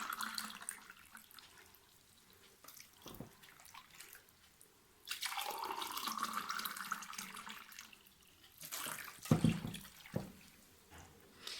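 Lukewarm water streams steadily into a glass for a few seconds, its tone rising as it fills, with faint clinks and drips around it, measured out for chapati dough.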